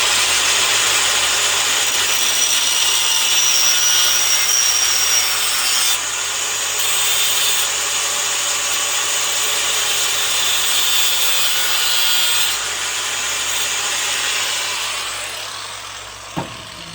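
A wooden army shovel handle being cut off with a power tool, giving a continuous loud, harsh cutting drone close to the microphone that eases off near the end and stops with a brief knock.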